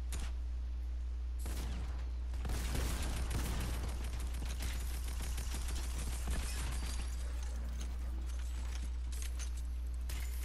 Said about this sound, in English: Shoot that dude on the ground.